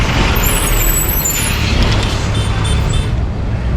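Bus with air brakes on a Mumbai street, a loud continuous hissing rush of air over rumbling engine and traffic noise, close by.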